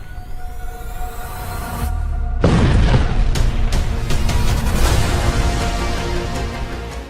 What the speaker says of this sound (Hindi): धमाका नंबर 3, धमाका नंबर 4, धमाका नंबर 5 और धमाका नंबर 6